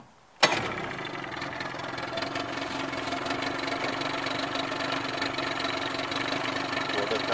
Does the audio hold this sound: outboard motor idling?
yes